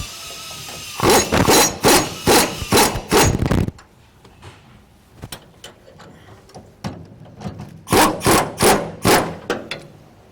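A ratchet wrench snugs up frame bracket bolts during a SS800 trac bar install, producing two bursts of rapid, loud rhythmic clicking strokes close by, separated by quieter handling knocks.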